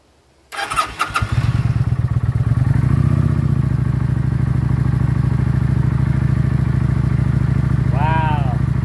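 A 2019 Kawasaki Vulcan Classic LT motorcycle fresh from a spark plug change cranks briefly, then catches and settles into a loud, steady, close idle with a low rumbling beat.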